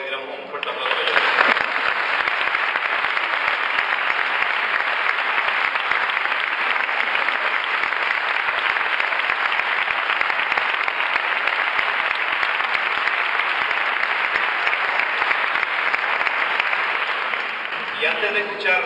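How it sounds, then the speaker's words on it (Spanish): An audience at a Santa Cecilia band concert in El Carmen de Salteras applauds prize-winning oboists, with loud, dense, sustained clapping that swells quickly and holds steady for nearly twenty seconds before easing slightly at the end. "Me gustaría que entre todos le diéramos un fuerte aplauso a ellos."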